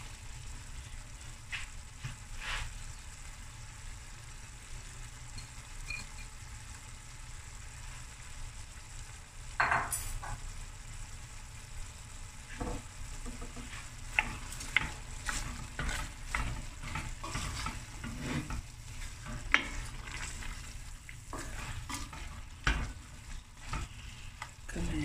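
Cabbage fries and braises in a pot for a cauliflower and cabbage bredie, with a continuous soft sizzle and occasional scraping, clacking stirs, close and moderately quiet, without speech.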